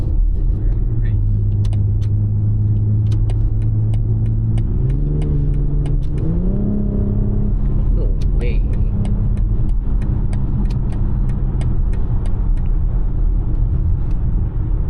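A BMW X3 diesel engine in sport mode, heard from inside the cabin as it revs up through rising steps, then settles into a steady rumble with light clicks, while people talk over it.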